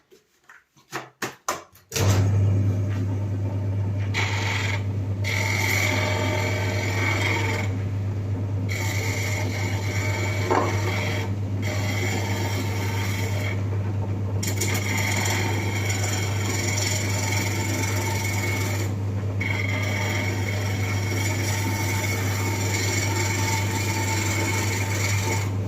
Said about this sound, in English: I'm just going to run my skew across this because it's slightly out of true.